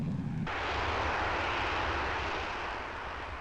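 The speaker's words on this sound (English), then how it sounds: "The takeoff, mere routine. Afterburner turned on." A Northrop F-5E Tiger II jet of the Swiss air force taking off with afterburner lit, a loud, broad roar that swells in quickly and holds steady before easing slightly at the end.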